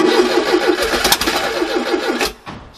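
A 1969 Ford Capri engine cranks with the accelerator off, a loud, steady churning starter turnover for about two seconds before it cuts out abruptly, followed by a brief fainter tail, with no voices.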